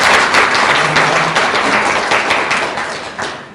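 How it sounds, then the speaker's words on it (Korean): A crowd applauds a National Assembly member at a forum's founding ceremony, loud sustained clapping from many hands that fills the room and fades slightly toward the end, with no voices over it. "다시 한번 우리 박홍근 의원님께 한참 박수 부탁드리겠습니다"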